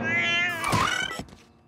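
A cat gives a single drawn-out meow with a rising then falling pitch, close and clear, briefly heard over a quiet musical backdrop.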